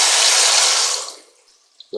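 Hand-crushed tomatoes poured into a pan for a pomodoro sauce give a close, wet rushing pour that fades away after about a second, ending with a couple of small clicks.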